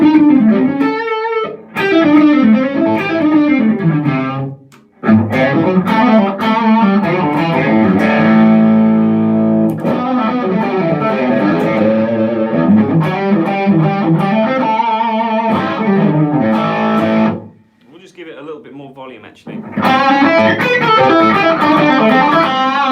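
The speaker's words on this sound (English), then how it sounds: "here's what the Dualist sounds like" An electric guitar plays through a Dualist overdrive pedal with reverb, a distorted, sustained melodic phrase with chords and single notes, loud and close, pausing briefly twice before resuming.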